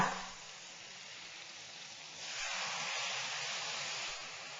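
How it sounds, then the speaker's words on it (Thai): Soup stock poured into a hot wok over fermented soybean paste while making rad na with marinated pork: a soft, steady hiss that swells louder partway through, with no voices. "พอเต้าเจี้ยวปุ๊บเนี่ย เราไม่ใส่หมูก่อนนะคะ เราใส่น้ำซุปเลยค่ะ"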